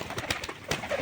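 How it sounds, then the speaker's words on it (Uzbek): Pigeons or doves cooing at a home in Asaka, with several soft repeated coos close by in a short burst and no talk. "Mana qushlar."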